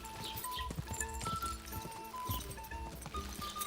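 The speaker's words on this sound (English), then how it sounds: "I'm so bad at riding a horse." Horse hooves clip-clopping in a steady rhythmic trot while riding in Kingdom Come Deliverance 2, with tack jingling over faint game background sound.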